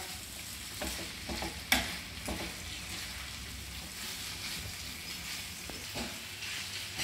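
Chicken liver fries in a tawa pan with a continuous soft sizzle, stirred now and then with a few scraping clinks, one sharper knock standing out near the start.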